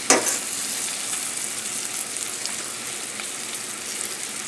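Salmon frying crispy in a pan, a bright steady sizzle close by with a sharp burst of spatter at the start, then continuous crackle throughout with no talking.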